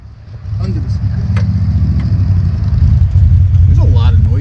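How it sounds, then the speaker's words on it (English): Outdoors, a nearby motorcycle revs while a lawn mower runs, making a loud, continuous low engine drone that swells slightly over time. People talk over the noise. "One of them is mowing and the other is playing with his motorcycle."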